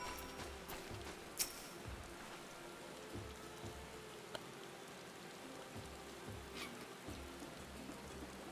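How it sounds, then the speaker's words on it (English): Steady rain falls in Final Fantasy XIV, a dense, even hiss with scattered sharper drop ticks, fairly soft and continuous with no talking. "Oh, jeez, it's raining."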